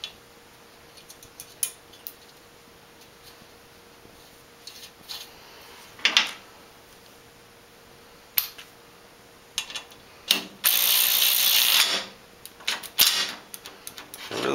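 A SKIL power wrench driving a screw, heard as scattered close handling clicks and taps, then a single loud motor burst lasting about a second, followed by more light clatter.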